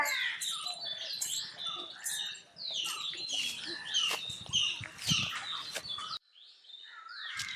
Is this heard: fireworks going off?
no